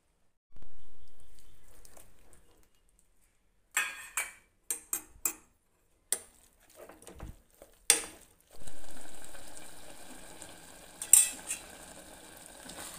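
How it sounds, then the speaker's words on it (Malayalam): Ground coconut paste stirred into an erissery curry of raw plantain, yam and cowpeas: a run of separate scraping and clinking spoon strokes against the pot, close and fairly loud, followed by a steady bubbling simmer. "ഇതിനകത്തേക്ക് നമുക്ക് അരപ്പിട്ട് കൊടുക്കാം"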